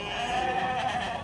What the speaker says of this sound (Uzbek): Akalar mana Boladan ajragan qo'ylar.